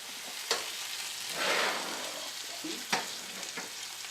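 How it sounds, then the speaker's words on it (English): Edamame and corn stir fry with soy sauce sizzling in a pan, a soft steady frying hiss broken by a few sharp clinks and scrapes of stirring. "with this stir fry, you just want to do it until most of the soy sauce has seemingly disappeared"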